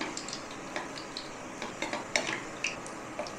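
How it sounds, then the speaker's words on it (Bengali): A large stuffed bread pakora with paneer fries alone in hot oil, with a soft bubbling hiss under repeated light clinks and scrapes of a utensil against the pan. "দিয়ে দিলাম একটা করেই ভাজছি"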